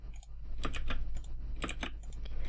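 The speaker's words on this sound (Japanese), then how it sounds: "シフトキーを押しながら D のキー" Computer keyboard keys pressed during work in modo 3D software, a quick run of light clicks and taps with a couple of closely spaced clusters, close and fairly soft, with no voice.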